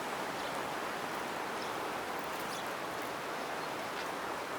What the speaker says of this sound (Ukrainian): Дощ лупить капець